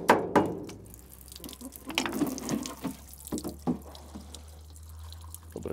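Liquid of coolant and gasoline mixture drips from a removed engine head on an old cable shovel that sat 23 years, heard as sparse, close plinks and taps with a soft mechanical clink in a quiet space.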